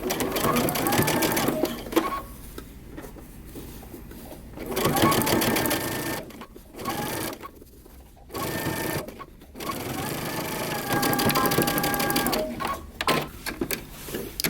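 A sewing machine top stitching the back facing of a moto jacket, running in steady bursts with short pauses between runs, close and fairly loud.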